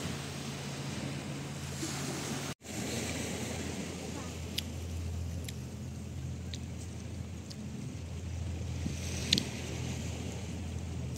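Strong flowing water on a Mount Johnston hike, a steady broadband rush like a torrent or cascade, with brief clicks and knocks over the top and a short dropout near the start.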